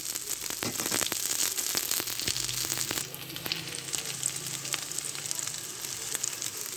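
Crab chops made from Sundarbans spotted crab sizzle and crackle in hot oil, with a steady close frying hiss and occasional sharp pops throughout.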